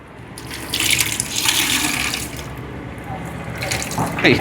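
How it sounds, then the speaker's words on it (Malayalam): Water splashing and trickling as a cloth soaked in camphor water is wrung out by hand over a sink, a close, steady wet gush with small drips, no talk. "നല്ല രീതിയിൽ തന്നെ ഒന്ന് മുക്കിയെടുത്തിട്ട് ഞാനൊന്ന് പിഴിഞ്ഞെടുക്കുന്നുണ്ടേ"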